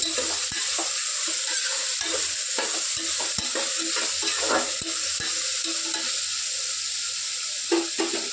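Vegetable pieces frying with salt in a pan for biryani, a continuous sizzle with a few sharp utensil knocks and scrapes of stirring, close by and without speech.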